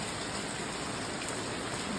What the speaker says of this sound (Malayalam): ഇപ്പോൾ നല്ല മഴ പെയ്തുകൊണ്ടിരിക്കുകയാണ്